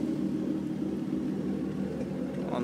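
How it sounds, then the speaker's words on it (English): A 2013 Ford Mustang engine idling while warming up, a steady low rumble and drone, constant and unbroken, heard up close with no talking. "I'm just waiting for the car to idle, to get warm."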